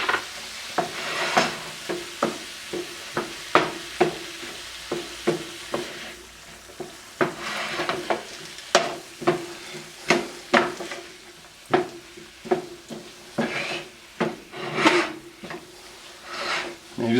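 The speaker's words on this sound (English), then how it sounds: "Let me add our soy sauce in there." Soy sauce hitting a hot pan of sofritas, a steady sizzle broken by a run of sharp scraping and stirring knocks from a utensil against the pan, close and clear with no talk.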